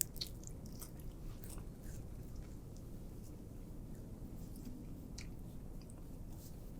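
Crunchy thin-crust pizza from Angeloni's Pizzeria in New Jersey being bitten and chewed close up, a soft, steady run of crackly bites and mastication over a low background hum, no voices.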